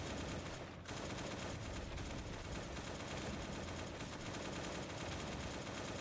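AK rifle fire in the survival video game Last Day on Earth: Survival: loud, dense automatic bursts that run almost continuously, with one brief gap near the start.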